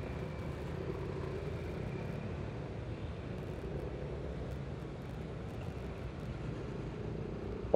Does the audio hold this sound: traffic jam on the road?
yes